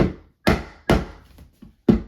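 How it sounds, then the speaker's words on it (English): A mallet knocking a part of a heavy-duty rolling utility cart into place, five sharp close knocks in an uneven rhythm, two weaker taps between louder blows, each ringing out briefly with no talk. "And that also gets knocked down with the mallet."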